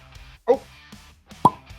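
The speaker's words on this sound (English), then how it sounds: "Cork pop again." Two short, hollow pops a second apart, close by, a tight cork pulled from a wine bottle, with a faint voice in the background.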